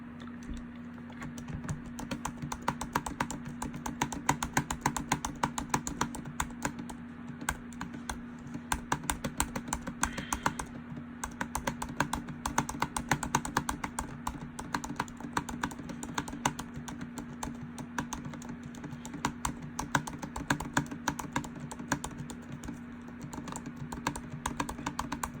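Rapid, steady typing on the keyboard of a 2019 MacBook Pro laptop, with close, crisp key clicks in uneven bursts and brief pauses, accompanied by a low constant hum.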